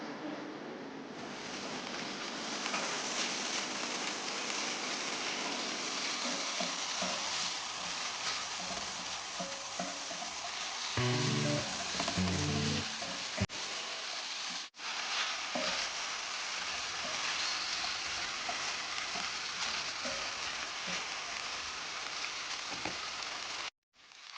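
Oxtail, already tender, browns in a pan with garlic and onion, giving off a continuous soft sizzle and crackle, with a voice briefly speaking over it partway through.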